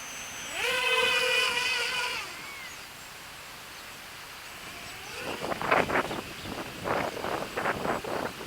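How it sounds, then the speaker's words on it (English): Outdoor wind during a race drone flight test, coming in as rough gusting buffets against the microphone in the second half, after an earlier high whining motor tone fades out. "Ooh, that wind's coming up."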